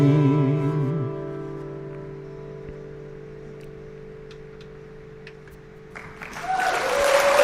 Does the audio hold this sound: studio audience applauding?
yes